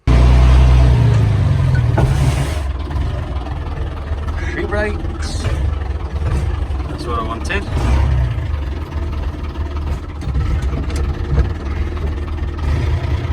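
An old tractor fires up after being reassembled, its engine starting loud and close with a heavy low rumble, then settling into a steady idle while someone talks over it.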